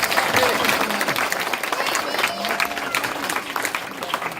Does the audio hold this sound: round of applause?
yes